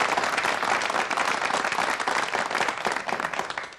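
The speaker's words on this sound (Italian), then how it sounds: "Bravo Patrese, allora gli vogliamo dedicare un applauso, lo merita veramente." Studio audience applauding on an Italian TV sports show after motor racing coverage, a dense, steady burst of clapping that fills the room for several seconds before tapering slightly at the end.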